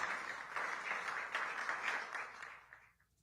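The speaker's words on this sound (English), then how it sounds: "And then everybody applauds." Applause following the signing of defense agreements between Qatar and the United States at a formal ceremony, a steady, moderately distant round of clapping that fades out smoothly at the end.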